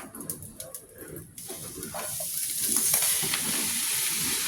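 Hamburger meat sizzling in a hot skillet, already drained, with steady frying crackle and loud hissing steam that builds and holds, plus a few stirring scrapes early on, close by.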